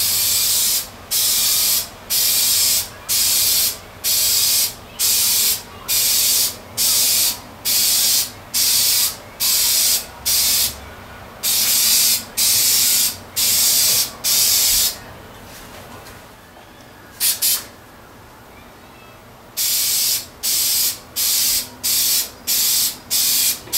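Automotive clear-coat spray can misting lacquer onto a 2014 Gibson SGJ guitar headstock, in a run of short, loud hissing bursts with brief gaps, a longer continuous spray near the middle, then more quick bursts.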